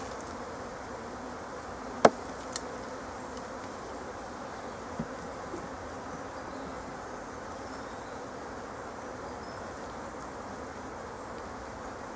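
Honeybees at a queen-rearing hive make a continuous low, even buzzing hum, with a few sharp clicks and knocks early on.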